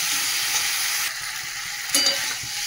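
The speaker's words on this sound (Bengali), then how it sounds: "চলো মশলাটা একটু জল দেবো, দিয়ে আর ভালো করে কষাই।" Spice masala with turmeric, salt and green chilli fries with potatoes in a pan while being stirred; a dense, close sizzle holds steady throughout, with a brief scrape and burst near the end and no speech.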